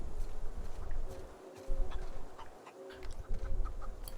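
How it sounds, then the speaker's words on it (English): A rooster clucks in The Outer Worlds, giving a run of short, fairly close clucks and chirps over a steady game ambience, with no talking. "They have a rooster just walking around."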